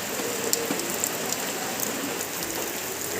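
Torrential rain drums on nearby surfaces in a thick, continuous wash of sound, with a few sharper drip spikes and no talking.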